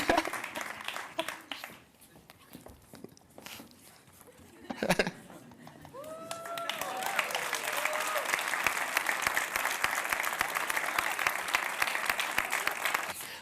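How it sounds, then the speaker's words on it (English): At the European Youth Award Gala, a crowd begins applauding the award winners after scattered claps and a short sharp thump, and the clapping swells into a steady, full round that carries to the end. "A big round of applause for our winners."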